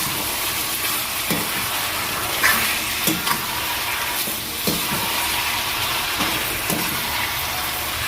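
Boiled young jackfruit and potato sautéed in a pan, a constant frying sizzle broken by periodic scraping knocks from the stirring spoon, close and moderately loud, with no talk.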